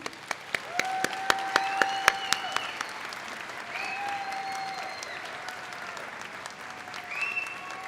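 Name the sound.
audience applause at a college commencement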